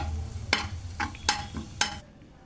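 Tempering (baghar) sizzles in hot oil for haleem, a steady frying hiss under several sharp clinks of a spoon stirring against the pan.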